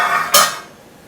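A metal ladle clinks once against a pancake pan in a home kitchen, a short bright knock that rings briefly over faint background clatter.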